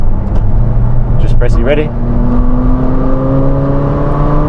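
Ferrari 458 Spider V8 engine revving with its exhaust opening up, loud and close, with a rising whine and steady engine drone as the car pulls away, while people talk over it.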